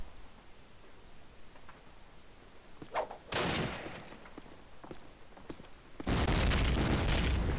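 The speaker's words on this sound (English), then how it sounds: "And they're setting up the nades now." Grenades going off in a Call of Duty match on the railyard map, scattered pops building to loud bursts of blasts and rumble, near and sharp with no talk.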